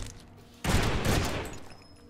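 Gunfire in a Deadpool video game, a sudden loud burst of rapid shots that starts after a quiet moment and trails off over about a second and a half.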